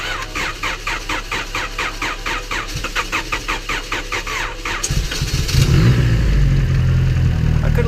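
A boosted Honda Civic EG engine, running a Walbro 255 LPH fuel pump, cranks on a jump start with a rapid rhythmic starter whir for several seconds, then catches and settles into a loud, steady idle close by.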